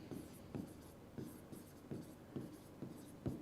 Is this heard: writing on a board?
yes